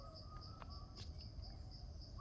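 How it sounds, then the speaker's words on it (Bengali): Faint bird chirps repeat at a steady pace over a quiet outdoor woodland background in Bindubari, by the Dhaka-Mymensingh rail line, distant and thin. "এখনও কিন্তু পাখির কলকাকুলি শোনা যাচ্ছে"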